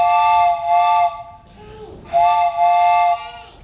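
A British train whistle blown twice, each a loud two-note steam-style blast with a breathy hiss, separated by a short pause with a brief lower toot between them.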